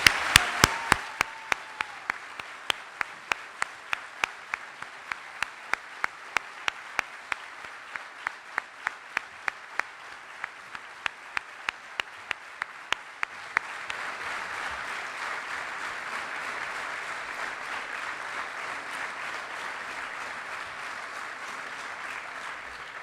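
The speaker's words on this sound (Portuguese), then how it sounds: "Para o João, uma salva de palmas." An audience applauds at the inauguration ceremony of the Associação Académica de Coimbra's new governing bodies, opening with rhythmic unison claps that give way to sustained, dense applause from a large crowd, with no speech over it.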